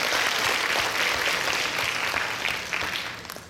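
Sustained applause from a conference audience at a technical talk, a dense steady patter of many hands clapping that stays loud before thinning slightly at the end.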